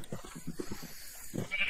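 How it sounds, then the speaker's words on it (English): Bleating sheep in a video game, several short repeated calls in a quick rhythm, then one longer bleat; moderate level, close by, with no talk over them. "we're bringing a couple sheeps back"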